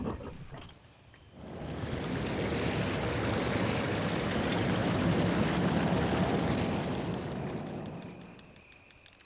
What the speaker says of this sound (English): Sound of the waterfall seems to have stopped.